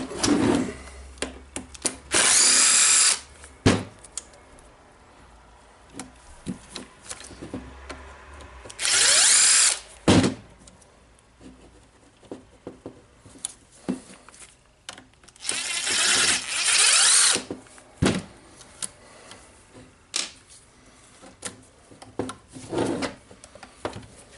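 A power drill fitted with a proper bit backs screws out of a Dewalt DCN692 nailer: several separate whirring bursts of a few seconds each, close and loud, with handling clicks and rubbing between them.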